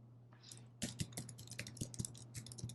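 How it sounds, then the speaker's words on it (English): Rapid typing on a computer keyboard, a steady run of light clicks with a few heavier keystrokes, close by over a low electrical hum. "I don't know why this typing is going so slow."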